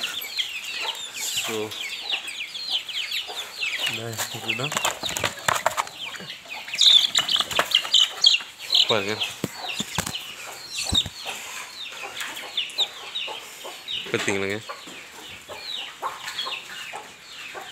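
Native Tamil Nadu rooster chicks from a fighting-cock breed, around twenty together in a farmyard, cluck and peep in short scattered bursts with wing flaps, fairly close, while someone talks intermittently over them.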